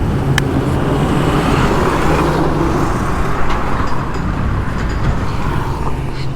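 2004 Honda Dio scooter running on E0 petrol, a continuous engine drone and road rumble heard while riding, steady and fairly loud, with wind noise and faint passing traffic.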